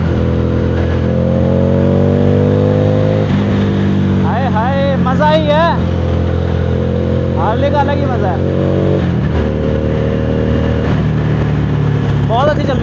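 A Harley-Davidson Street 750 motorcycle revs hard in first gear, its engine note climbing and falling in steady loud pulls close by, with someone talking over parts of it.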